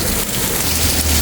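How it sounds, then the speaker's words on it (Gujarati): Heavy rain pouring down in England, a dense continuous hiss of drops striking surfaces, loud and close for a brief moment with no voices. "ઇંગ્લેન્ડમાં મુસળધાર વરસાદ પડ્યો"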